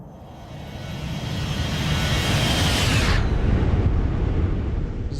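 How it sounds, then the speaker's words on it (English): A Zibo Boeing 737-800 in X-Plane 11 roars past in a flyby, its engine noise swelling loudly and then dropping in pitch with a sharp Doppler shift as it passes. "We got to do a flyby before I forget."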